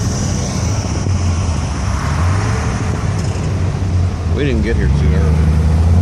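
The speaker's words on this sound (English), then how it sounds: "That's a fast Mustang." A fast classic Ford Mustang drives by on a road with a steady low engine rumble and traffic noise, while people talk nearby.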